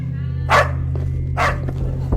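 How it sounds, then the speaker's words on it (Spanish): A dog barks twice at night, two sharp, fairly loud barks about a second apart over a low steady hum. "cuando escuché el ladrido de un perro"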